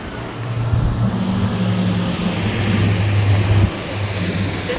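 A truck rumbles past in a small-town street, a loud, steady low engine drone with a faint high whine that fades slightly near the end.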